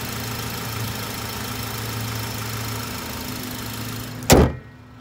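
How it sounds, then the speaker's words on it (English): A 2003 Honda Accord with 101,000 miles idles steadily and close by, a smooth low hum that runs throughout, then a door slams shut near the end and the cabin hush returns. "But the car, as you can hear, is running like a champ."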